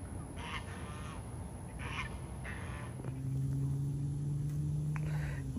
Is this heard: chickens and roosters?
yes